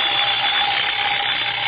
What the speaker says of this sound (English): Coming awake, I heard the alarm we'd set go off.